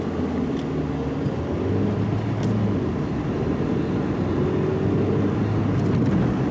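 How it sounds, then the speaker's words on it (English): Car engines droning and revving steadily with a low rumbling roar, loud and continuous throughout, no voices. "Gentlemen, rev your engines"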